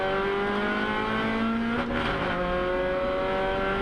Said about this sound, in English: a bit of limiter bashing